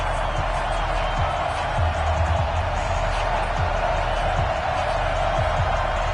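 Steady wall of stadium crowd noise from an EA Sports football video game before a New York Jets versus Buffalo Bills matchup, a constant broad roar with faint scattered thumps underneath, loud and continuous throughout.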